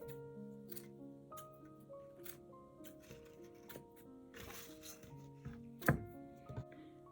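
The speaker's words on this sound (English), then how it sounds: "add some of this wire. I'm going to cut it into little pieces." Wire is snipped into little pieces for a wizard gnome craft. Soft, close cutter snips recur irregularly over a faint hum, with one sharper clip standing out near the end.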